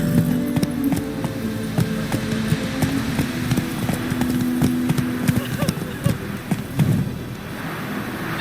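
Clip-clop hoofbeats from a galloping horse in The Witcher 3 video game run steadily throughout, with someone talking over them.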